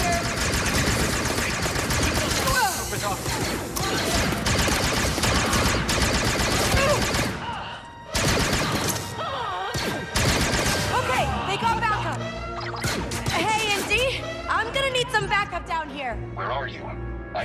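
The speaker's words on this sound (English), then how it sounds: "I hear blaster fire." Blaster fire in the Star Wars Outlaws video game, loud rapid bursts and explosions layered with game music and character dialogue throughout.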